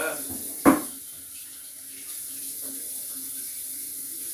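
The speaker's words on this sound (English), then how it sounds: "Leave that water running behind me." Kitchen tap left running while cooking sausage and fish, a steady close hiss of flowing water after a sharp clatter near the start, with faint talk in the background.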